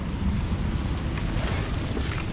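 Incendio fire spell cast in Hogwarts Legacy inside a cave, a sustained rumbling, roaring burst of flame with heavy low-end crackle lasting the whole moment.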